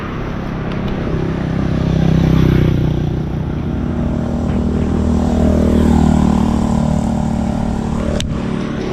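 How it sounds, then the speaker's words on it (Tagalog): A motorcycle engine runs nearby and loud, its tone rising and falling as it revs and moves, with a sharp transient near the end and no talking. "Ayan ang motor."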